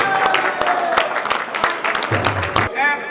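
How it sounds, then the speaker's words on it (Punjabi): Applause from an audience at a Punjabi comedy mushaira during a Lohri celebration in Faisalabad, rapid claps crackling together, with a voice and some tonal sound mixed in before a brief pause near the end. "ਤਾੜੀਆਂ ਨਾਲ ਇਸਤਕਬਾਲ ਕਰਨਾ"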